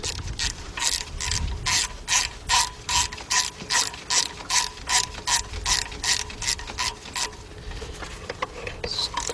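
Rapid ratchet clicking in steady bursts as intake manifold bolts are tightened on a 2004 Chevy Monte Carlo 3.4 engine, close and clear, stopping near the end with no talking.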